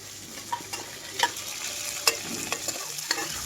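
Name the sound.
frying chopped onion, green chili and curry leaves in a pan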